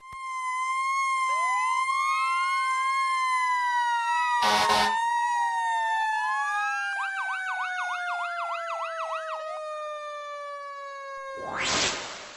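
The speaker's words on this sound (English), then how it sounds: "We have a Q siren brake switch up in the cab, so we can slow that down so it quits making noise" A fire truck's sirens sound loud and close, rising and falling wails with a fast warbling yelp. Two short blasts of a blaring horn break in, and nobody speaks.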